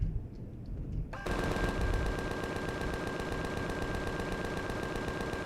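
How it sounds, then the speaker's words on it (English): Sustained automatic gunfire in the Empyrion: Galactic Survival video game, shots coming through walls aboard a freighter: a steady, rapid, loud stream of rounds that kicks in after a second of quieter sound and keeps going. "That's shooting through the walls."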